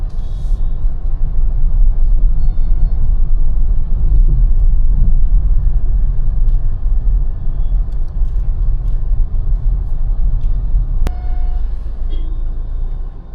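A Tata Altroz hatchback's engine drones at a steady low rumble from inside the cabin while driving in second gear, loud and continuous, with a brief click near the end.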